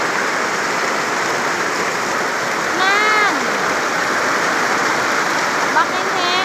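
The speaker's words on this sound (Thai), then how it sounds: "ฝนตกแล้ว" Heavy rain pours steadily during a storm in Laos, a dense, loud, continuous hiss of falling water, with brief bird calls and a short spoken syllable over it.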